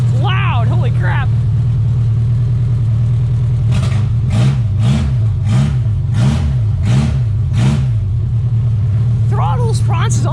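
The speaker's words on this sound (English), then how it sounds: "This is with the Opel straight pipes, guys. Just the header, nothing else." An Opel engine fitted with headers and straight pipes rumbles loudly and steadily, then revs in a rapid series of blips midway. A voice talks briefly at the start and end.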